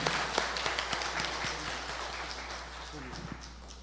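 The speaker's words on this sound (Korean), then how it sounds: "이 시간에 우리 부활하신 주님께 영광의 박수 올려드리겠습니다." Faint, distant applause from a church congregation at an Easter Sunday service, a soft wash of clapping lasting a few seconds.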